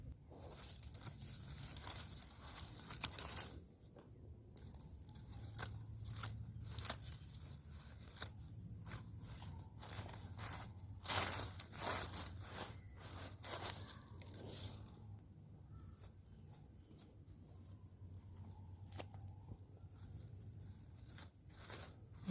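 A perennial plant clump is cut apart while a spring flowerbed is cleared, giving repeated close tearing and crunching snips and rips in irregular bursts over a quiet outdoor background.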